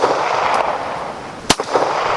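A Ruger P89 pistol fires at a shooting range: one sharp, loud report cracks out over steady outdoor noise.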